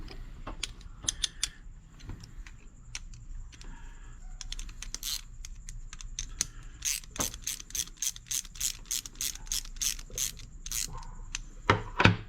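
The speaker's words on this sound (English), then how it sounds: "And now you can actually tighten it down." Small metal parts on a Traxxas X-Maxx RC truck clicking and ratcheting as a nut is tightened down with a washer, a fast run of close, sharp ticks that grows steady and rhythmic toward the end, with no talk.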